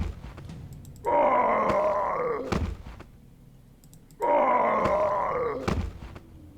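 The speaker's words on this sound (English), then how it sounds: "Next up, Blademaster. I personally hate this sound." Blademaster hero death sound from the video game Warcraft 3, heard twice: a loud, drawn-out groaning moan ending in a thud each time, with a brief pause between the two.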